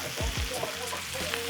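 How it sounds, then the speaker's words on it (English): Tomatoes sizzling in a hot pan while cooking, a close, loud frying hiss with stirring scrapes and soft clatters breaking through, with no talk heard over it. "Sizzling."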